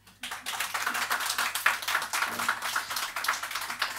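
An audience at a debate applauds, a lively burst of many hands clapping that starts abruptly and keeps an uneven, crackling rhythm throughout, fairly close and without speech over it.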